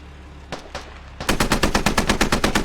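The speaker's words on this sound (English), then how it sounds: "And striker shooting at Ben Coke." Automatic gunfire rings out during an esports video game match. After a couple of isolated shots, it breaks into a loud, rapid and evenly spaced burst that continues to the end.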